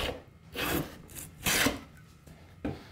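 A hand plane shaves along a wooden board edge, taking heavy cuts in three or four short rasping strokes separated by brief pauses, close and fairly loud.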